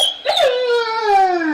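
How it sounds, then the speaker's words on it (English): A dog lets out one drawn-out, high-pitched whine close by, starting with a sharp yelp and sliding slowly downward over more than a second. "you're gonna hear my dog whine"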